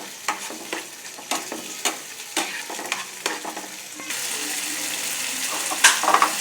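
Mashed tomato cooking in a wok on the stove: a spatula scrapes and taps in an even rhythm over a soft sizzle, then the frying grows louder and denser, with a sharp clink near the end.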